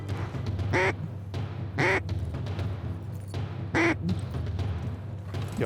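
Mallard ducks quack in three loud, distinct bursts spaced about a second apart, over a steady low outdoor rumble in Kansas bottomland.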